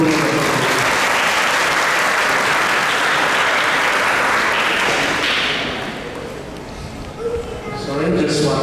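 A live audience at an ISKCON Toronto Sunday Feast lecture breaks into loud, sustained applause for Rupanuga Prabhu. The clapping fades near the end into scattered claps and murmuring voices.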